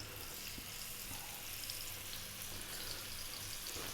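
Oiled spicy fish pieces frying in a skillet over medium heat, a soft continuous sizzle and crackle, quiet and steady with no talk.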